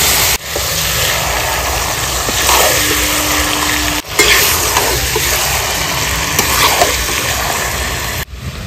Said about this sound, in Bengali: এবার দিয়ে দেবো ম্যারিনেট করে রাখা চিকেনটা।